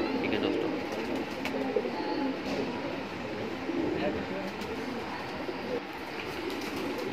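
Shahjanpuri and Kasni pigeons coo steadily in a loft amid a busy, noisy background, with soft throaty calls layered over constant murmuring and rustling.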